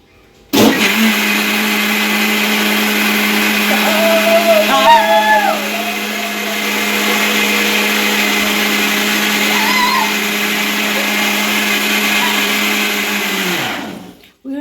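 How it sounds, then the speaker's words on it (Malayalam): An electric blender whirs a mixture for homemade ice cream, running loud and steady at close range for about thirteen seconds with slight pitch shifts as the load changes, then spins down to a stop. "അതുകൊണ്ട് ഇനി നമുക്ക് ഒന്നും കൂടെ ഒന്ന് ബ്ലെൻഡ് ചെയ്തെടുക്കാം"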